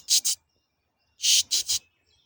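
A blue-gray gnatcatcher gives thin, wheezy calls outdoors on an early spring morning: a quick pair of buzzy notes, then a pause and a run of three more, close and clear against near silence.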